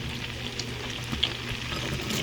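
Onion rings frying in a hot pan give a steady, soft sizzle and crackle close by, a continuous hiss with small pops and no voices over it.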